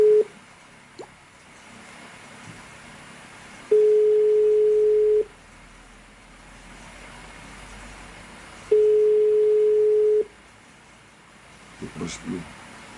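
A telephone ringback tone sounds in long, even beeps separated by pauses while the call goes unanswered, with faint background noise and brief speech near the end.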